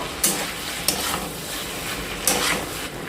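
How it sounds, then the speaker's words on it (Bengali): Vegetables for Bengali labra, a mixed vegetable dish for bhog khichuri, are stirred in a pot just after the lid is lifted: three distinct scraping strokes of a spoon over a soft, steady simmering sizzle. "এবার ঢাকনাটা একবার খুলে নাড়াচাড়া করে নেব"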